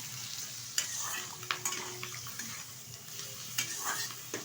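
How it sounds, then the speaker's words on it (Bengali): Fish oil and roe from catla fry with turmeric and salt while a spatula stirs them, producing a steady close sizzle broken by a few scraping strokes against the pan. "ভালোভাবে একটু নেড়ে চেড়ে ভেজে নেব।"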